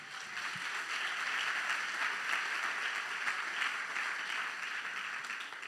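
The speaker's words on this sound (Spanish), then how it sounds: "Dale un fuerte aplauso al Señor." A church congregation applauds together during a sermon, a steady, dense wash of clapping that holds evenly throughout, moderately distant, with no talk over it.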